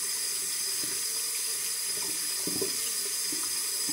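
A tap runs hot water steadily into a bathroom sink, a continuous close rush of water with faint splashes and clinks, no speech.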